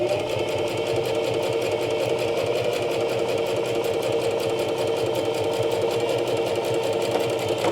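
A sewing machine stitching a coin purse, running at a fast, steady, even rhythm of needle strokes, loud and close, without talk.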